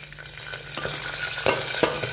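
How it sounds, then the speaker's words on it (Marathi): Curry leaves, peanuts and peas frying in hot tempering oil over a low flame, with a dense steady sizzle close up and a few scraping stirs of a spoon against the pan. "फोडणीमध्ये आपण आता सर्व वस्तू घालून घेऊ म्हणजे कढीपत्ता घातला शेंगदाणे घातले गॅस बारीक आहे मटार घातले"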